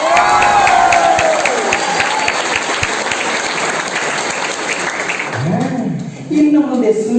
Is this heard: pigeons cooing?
no